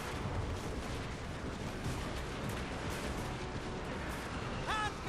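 Nolan Ironside's rapid artillery pours out continuous fire in a Total War: Warhammer 2 siege battle, a steady dense rumble of shots, fairly distant and moderate in level, lasting throughout.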